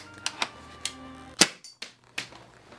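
Sharp mechanical clicks and snaps from a MAS 36 airsoft rifle as the magazine trap is closed and the bolt is worked, about six separate close, dry clacks spaced irregularly over a quiet background.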